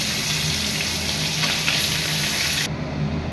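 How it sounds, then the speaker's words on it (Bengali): Hilsa fish heads frying in hot oil, a steady, close sizzle that runs unbroken at even loudness before its bright crackle cuts off sharply near the end. "এখন ইলিশ মাছের মাথাগুলোকে ভেজে নেব।"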